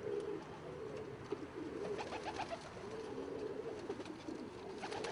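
Pet pigeons, including fancy colour breeds and white frillbacks, coo steadily at home in low, rolling throaty phrases that repeat throughout, soft and close with faint ambient noise.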